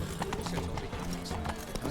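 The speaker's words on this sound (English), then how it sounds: "Whoa there, Roach." A horse gallops in The Witcher 3 video game, with rapid steady hoofbeats close up and a brief whinny, under a voice speaking.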